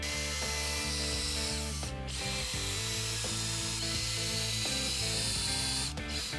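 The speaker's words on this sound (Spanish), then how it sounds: "voy a atornillar este enrejado entonces" A power driver sinks drywall screws into a wooden garden trellis, a loud continuous whirring with stepped changes in pitch as each screw bites and tightens, close and uninterrupted for several seconds.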